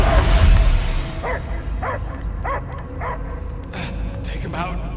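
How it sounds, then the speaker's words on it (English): A dog barks repeatedly in Marvel's Guardians of the Galaxy, a steady series of sharp yips and bow-wows set against a dense game soundscape, with voices talking over the barking. "I hear only barking."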